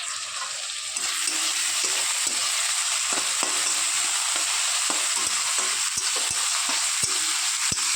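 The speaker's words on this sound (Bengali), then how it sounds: "এখানে এই যে কুচিয়ে রাখা টমেটো পেঁয়াজটাকে দিয়ে দেবো এবার তেলের মধ্যে।" Chopped tomato and onion fry and get stirred in hot oil for a fish head curry, a steady close sizzle broken by repeated sharp scrapes of the spatula against the pan, with no talking.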